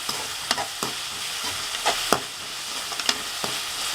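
Onions being stirred and sautéed in a pan with already-cooked fish for a fish puttu stir-fry, a steady sizzle broken by several sharp spatula scrapes and taps, close and clear with no talking.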